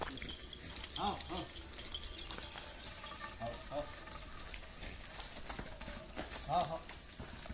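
Cow walking outdoors on open grazing ground, its hooves giving a few soft, irregular thuds under nearby talk and ambient outdoor noise.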